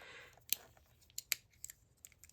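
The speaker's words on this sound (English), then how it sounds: "This is Midori extra small compact scissors." Midori extra small compact scissors handled up close, a few sharp little metallic clicks and snips spaced irregularly over a quiet background.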